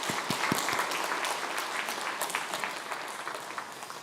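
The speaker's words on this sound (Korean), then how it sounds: "우리 하나님께 영광의 박수 한번 올려드리겠습니다." A church congregation at a Korean Sunday service in Toronto gives a round of applause to God, sustained, even clapping from many hands that carries on at moderate loudness throughout.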